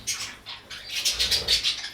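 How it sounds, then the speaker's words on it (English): Flock of grown-up young parrots in an aviary shed, chirping and squawking continuously in overlapping high calls, fairly close and steady throughout. "these are all the baby parrots which are now grown up"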